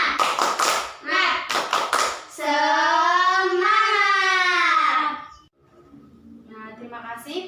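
Schoolchildren in an elementary classroom doing a rhythmic spirit clap: a few sharp claps at the start, followed by loud, sustained chanted children's voices that fade out near the end.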